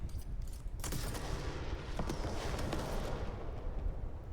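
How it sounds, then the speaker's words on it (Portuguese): Gunfire from the video game Control, a dense burst of shots with a rough, roaring tail that fills the whole span. "Vou dar até um tiro aqui com ela."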